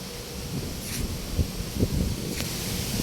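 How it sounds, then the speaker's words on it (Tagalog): Strong wind in a riverside park, a steady broadband rush buffeting close over the microphone with low rumbling gusts that swell briefly about midway. "lakas ng hangin dito mga idol"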